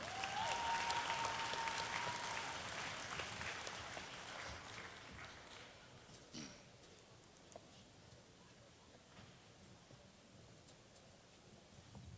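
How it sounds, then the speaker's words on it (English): Audience at a university awards ceremony applauding a women's soccer team: dense clapping swells at first, then thins to a softer scattered patter as it fades over about twelve seconds. "Ladies and gentlemen, have a round of applause for the UPIKE women's soccer team."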